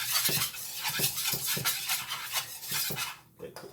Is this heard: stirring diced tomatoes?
yes